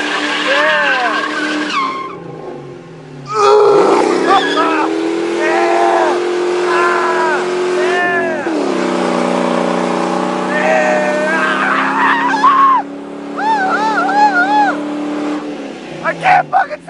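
Ford Mustang GT with a Magnaflow exhaust doing a burnout, a loud sustained engine roar with tire squeal and revving surges for most of the stretch, while excited voices shout over it.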